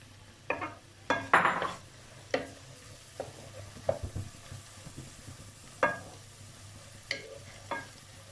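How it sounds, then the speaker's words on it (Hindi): Chopped onions, two medium ones, frying in about half a cup of oil over a raised flame, a steady low sizzle broken by several sharp clinks and scrapes of a spoon stirring the pan. "हाफ कप के करीब मैंने ऑयल लिया है और वो जो प्याज मैंने 2 दरमियाने काट के रखे थे वो इसमें मैंने डाल दिए हैं"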